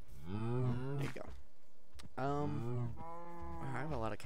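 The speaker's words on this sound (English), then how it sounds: "I have a lot of cows out here." Minecraft cows in a video game, several drawn-out, harmonic moos that come one after another, fairly loud and close, with a faint click between calls.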